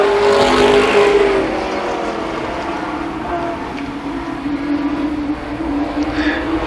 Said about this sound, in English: The second limited sportsman heat race.